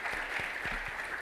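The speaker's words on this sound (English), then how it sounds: "Please, a round of applause for Professor" Audience applause after a guest professor is introduced at an innovation and industry summit, a steady dense wash of many hands clapping throughout, fairly distant and even in level.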